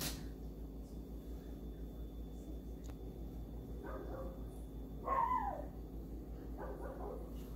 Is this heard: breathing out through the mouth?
no